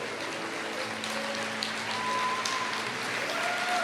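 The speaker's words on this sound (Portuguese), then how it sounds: "Aplauda mais, aplauda o seu Senhor, aplauda o seu Rei, aplauda aquele que te encontrou." Church congregation applauding during a service, a dense, steady wash of clapping close by, with faint sustained tones lingering underneath.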